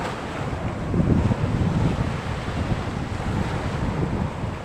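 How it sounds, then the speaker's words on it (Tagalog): Strong sea waves and gusty wind out at sea from a small fishing boat, loud continuous buffeting wind over surging, rumbling water with no voices. "medyo may kalakasan ng alon"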